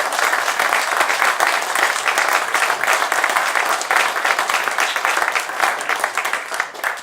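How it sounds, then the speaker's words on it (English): An audience at David Seligman's 90th birthday concert event at RWCMD gives a loud, sustained round of applause, thick and even from start to finish, with no speech over it. "So let's have another round of applause."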